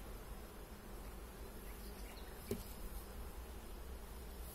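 Honeybees hum softly around an opened beehive during a colony inspection, a faint, steady drone with one brief knock partway through, no voices.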